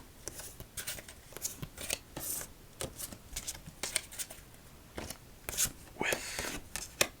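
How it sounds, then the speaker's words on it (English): Playing cards being shuffled casino-style, with a steady series of crisp riffles, snaps and slides on a table, close and moderately loud. "we will do a casino shuffle"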